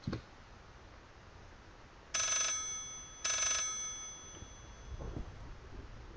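Telephone in the horror game Layers of Fear giving two bright, metallic rings, each about a second long with a gap between, over a quiet background with a few faint thumps.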